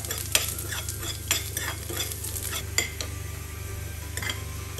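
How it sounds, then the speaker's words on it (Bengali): Chopped dried chili and garlic frying in a pan for a cumin drumstick lentil dish, stirred with a utensil that scrapes and clicks against the metal over a steady low sizzle, close and without speech. "শুকনো মরিচ কুচি আর রসুন কুচি এটা দিয়ে দিলাম। দিয়ে আমি ভালো মতো করে নাড়া দিব।"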